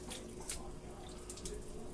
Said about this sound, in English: It's still that milk, so I'm gonna put a little water in.